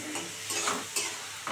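Spice masala with a splash of water is stirred and sautéed in a pan for a fish and taro dish, giving a soft sizzle with three or four scraping strokes of the spoon, close up and alone.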